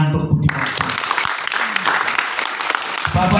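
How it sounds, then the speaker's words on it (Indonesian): An audience claps during a meeting with a provincial legislator about river normalization, a busy stretch of applause framed by brief voices at the start and end. "tepuk tangan untuk Bu Dewanti"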